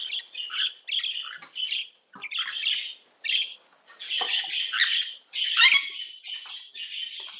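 Pet parrots squawk and chirp loudly and close up in repeated bursts, with short gaps between the harsh calls and no talk.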